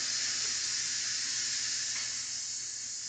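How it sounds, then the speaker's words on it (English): Steady, fairly quiet hissing of steam escaping from cooked potatoes in a kitchen steamer, a continuous airy rush that holds even for a few seconds with no other sounds. "So we're going to let the steam out of these."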